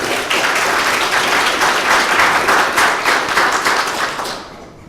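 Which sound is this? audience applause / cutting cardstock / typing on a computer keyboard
audience applause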